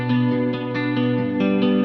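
Plug-in guitar run through the Output Portal granular effect, a sustained harmonic tone with shimmering, smeared granular texture and soft pulsing swells every half second or so, steady and fairly loud, alone without voices.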